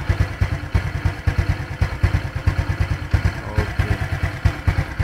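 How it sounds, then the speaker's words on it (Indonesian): A small moped engine running on Shell Rimula diesel engine oil idles nearby with a steady, rapid chugging putter and light mechanical clatter, no voices. "lepas dah tukar je kita dengar bunyi enjin macam mana pula"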